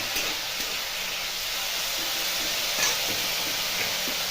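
Potatoes, tomatoes and peas sizzle steadily in a pan while being stirred, a continuous close frying hiss with faint scraping and no talk.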